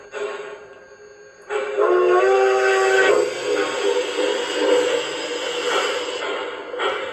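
A squeal plays from the sound decoder of an LGB 2019S mogul model locomotive fitted with a Zimo decoder. It is a sustained, tonal screech of about one and a half seconds over a steady mechanical hum, followed by a lower, rumbling run-on. No speech.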